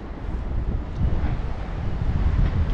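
Wind buffets the microphone on the seashore near Lido di Ostia and Fiumicino, Italy, with fishing boats nearby, and sea surf rolls underneath in a steady, loud, unbroken rush.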